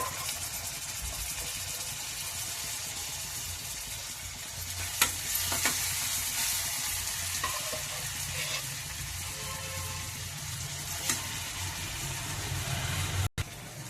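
Cooked mutton pieces frying in a pan for mutton curry, a continuous low sizzle and hiss with a few scraping stirs, fairly quiet and without talk.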